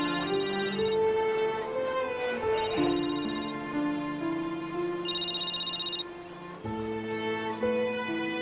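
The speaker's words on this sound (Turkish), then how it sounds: "Açıyorum anasının telefonunu." A mobile phone ringtone rings loud and close, a repeating melodic tune of bright electronic tones that plays for several seconds with no voices over it.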